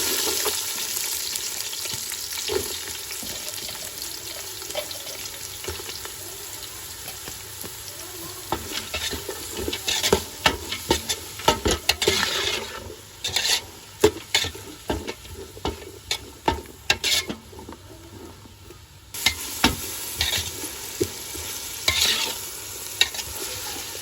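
Onions sautéing in a pan for prawn biryani give a continuous sizzle, with irregular stirring and scraping strokes that grow sharper and more frequent midway, close up, with a short lull before the frying resumes and no voices.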